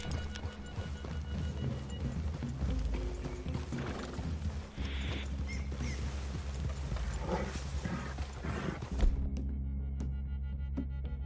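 Horses in Red Dead Redemption 2 on PS5, steady clip-clop of hooves with occasional whinnies over a continuous game ambience and music bed, then the sound cuts sharply near the end.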